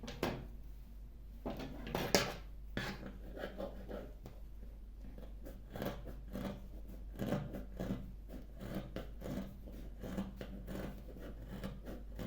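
Scissors cutting fabric for a circle skirt: quiet, irregular snips and rustles of cloth close by, repeated throughout over a low steady hum.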